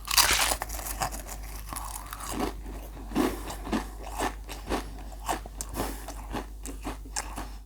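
Potato chips from a stack-style can, a knockoff of Pringles, crunch in repeated bites and chews close to the mic, a series of sharp crackling snaps at an irregular rhythm with no talking.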